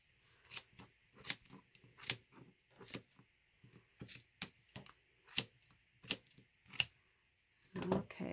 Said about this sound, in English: I'm snipping, going straight down and snipping these